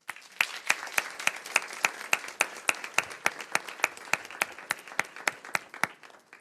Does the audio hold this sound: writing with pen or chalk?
no